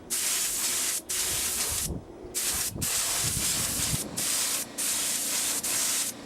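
A steady, loud hiss of a spray gun laying down a relatively thick coat of silver paint on aircraft parts in long bursts, broken by several brief pauses.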